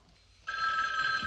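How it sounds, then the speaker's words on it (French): A telephone in a film starts ringing abruptly partway through, a bright sustained electronic trill that follows a quiet lead-in and holds steady to the end. "le téléphone, c'est la seconde menace après Michel Meyer"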